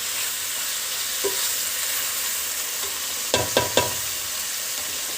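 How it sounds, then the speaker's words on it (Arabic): Meat sautés for biryani in a hot pan, a steady sizzle and fry with a few clattering stirs near the end, no talking. "هتاخد بقى شويه تشويحه كده صغيره"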